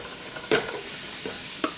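A mushroom mix goes into olive oil heated in a pan and is stirred, giving a soft, close sizzle broken by a few brief scraping clatters of the utensil; no speech.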